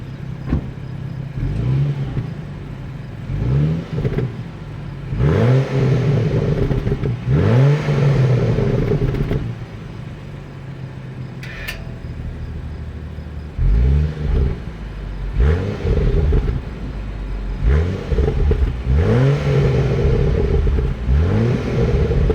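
A BMW engine on stock exhaust revs repeatedly in bursts, rising and falling with a throaty exhaust note, separated by quieter idling stretches.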